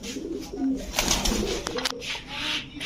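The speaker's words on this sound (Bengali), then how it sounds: "দর্শক দুধ খাকি একটা মাদি কবুতর" A female dudh khaki pigeon coos close by, soft low throaty calls repeating over nearly three seconds against a busy background.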